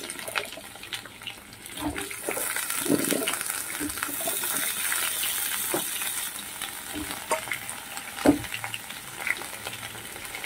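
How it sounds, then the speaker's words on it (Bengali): Potatoes and taro frying in a pan with oil for an ilish fish curry, a steady sizzle with occasional stirring clatter and scraping, close and moderately loud throughout, no talking. "এবার আলু আর কচুটা আমি খুব ভালো করে ভেজে নেব।"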